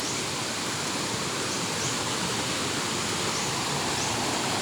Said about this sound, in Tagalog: Malakas naman yung agos ng tubig idol.